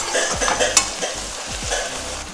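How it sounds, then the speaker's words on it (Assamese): Onions with bay leaf sizzle steadily in a pan, broken by several quick scraping stirs of a spatula, loud and close, no voices. "লগত দিলোঁ তেজপাত এইফালে দিলোঁ পিঁয়াজ ভাজি আছোঁ"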